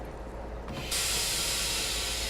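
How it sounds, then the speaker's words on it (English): A loud hiss of escaping air bursts in after a quieter start and holds steady as the parking brake of a BR 928 regional train releases at Salzburg Hbf in Train Sim World 4. "Release the parking brake."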